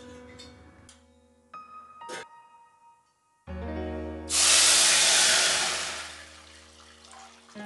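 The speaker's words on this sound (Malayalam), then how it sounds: "ആ നെയ്യിലേക്ക് തന്നെ നമ്മൾ നേരത്തെ തയ്യാറാക്കി വെച്ചിരുന്ന വാഴയിലയുടെ ജ്യൂസ് ഒഴിച്ചു കൊടുക്കാം" Banana leaf juice poured into hot ghee for banana leaf halwa bursts into a loud, bright sizzling hiss that swells suddenly and slowly fades, following a brief quiet gap after soft background music.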